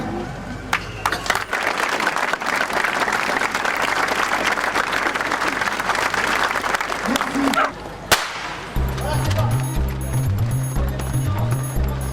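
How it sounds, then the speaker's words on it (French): A crowd applauds steadily for a minute of applause before a 10 km race, with sustained clapping and scattered sharp claps. Then the clapping gives way to a rhythmic beat. "le 10 km sera précédé effectivement, il va l'être, d'une minute d'applaudissements"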